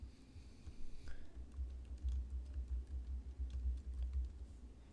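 Keyboard typing a file name on a school computer: a quick run of light key taps, close by, steady over a low room hum, with no voices.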